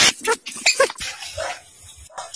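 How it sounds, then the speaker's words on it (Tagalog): A dog tied on a leash goes after a lizard, letting out a few short, close yips and whimpering barks in quick bursts that fade into softer whines near the end. "Nahanap siya ng aso."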